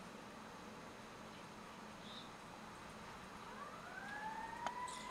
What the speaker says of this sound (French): Oh, une sirène.